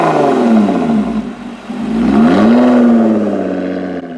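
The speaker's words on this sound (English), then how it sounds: "this is the best sounding V6 on the market today" A 2016 Lotus Evora 400 V6 revs in sport mode toward 7,000 rpm with its exhaust valve open. The loud, continuous exhaust roar dips briefly, then climbs and holds a high, rising pitch.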